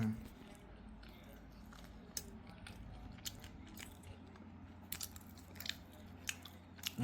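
Someone bites into and chews a chicken shawarma in Hyderabad, close-up crunchy bites and moist chewing with sharp crackles scattered through several quiet seconds.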